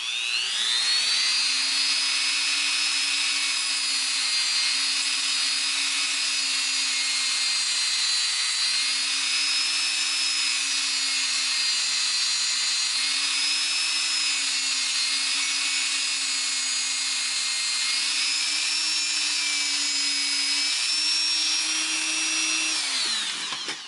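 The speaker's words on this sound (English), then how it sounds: "I prefer to use the Dremel with one of these silicone polishing wheels, these rubber silicone polishing wheels." A Dremel rotary tool fitted with a rubber silicone polishing wheel polishes a wire-wrapped pendant, a steady high-pitched whine that runs unbroken for over twenty seconds at close range and slightly wavers in pitch under load.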